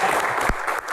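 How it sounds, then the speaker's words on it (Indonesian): Brief burst of audience applause at an Indonesian memorial Q&A event, steady dense clapping filling the whole second at moderate loudness, with no talk over it. "Tepuk tangan dong."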